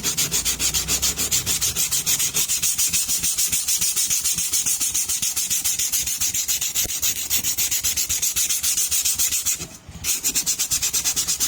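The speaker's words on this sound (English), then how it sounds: "then you're ready to sand again and again. Go in one direction" Steady, rhythmic hand sanding on the outer skin of a boat, with rapid back-and-forth rasping strokes in one direction continuing close up and loud, briefly pausing near the end.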